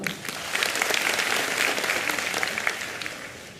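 An audience at a 2006 Wong Tze-wah stand-up comedy show claps steadily, a dense wash of applause that swells briefly and then tapers off near the end.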